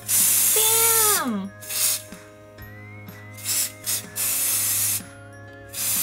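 A PONYEFFECT nail paint spray hisses onto a fingernail in several short, close bursts, the first the longest, separated by brief pauses.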